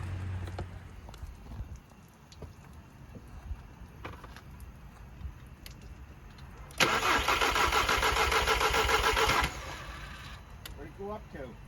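A VW Golf 7 R with a bent valve cranks and starts, its engine catching into a loud, busy run for a few seconds before dropping back, with voices talking in the background.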